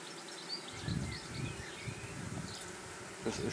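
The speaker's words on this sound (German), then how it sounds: "die Bienen waren schneller wie ich. Die sind einfach geschwärmt." A swarm of honeybees that has just left its hive box buzzes steadily at a moderate distance, a continuous low drone with a few louder passes as insects fly nearer.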